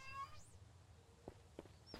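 Indoor house cat meowing faintly in the background, one drawn-out rising-falling meow followed by a few shorter soft chirps, quiet and somewhat distant.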